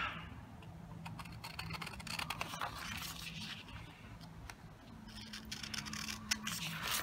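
Scissors cutting a paper size guide for a Microsoft Band 2, soft close snipping and scraping of paper, faint and continuous with no talk.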